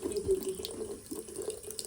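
A cat drinks from a running kitchen tap, the faucet's steady trickle and splash close and soft, with faint lapping blended into the flow and no talk.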